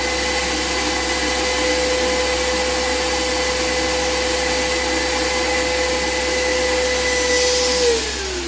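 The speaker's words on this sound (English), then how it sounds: "I'll put the vacuum back on and leave it for half an hour." A vacuum runs continuously to draw water from a leaking new shower installation with a failed compression olive fitting, a loud steady motor drone with a sustained whine throughout.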